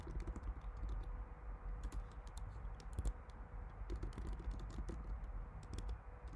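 Rapid, uneven clicking of keys on a computer keyboard while a name and email address are entered, close and fairly soft, with no talk over it.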